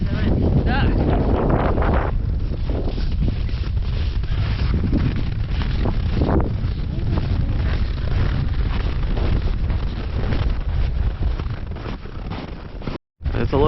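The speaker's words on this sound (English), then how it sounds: "It's a little bit windy." Strong wind buffets the microphone during an ultra race, a loud, continuous low roar with gusting surges that nearly swamps everything else, with brief dropouts near the end.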